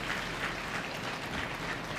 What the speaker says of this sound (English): Let's give Ella another round of applause.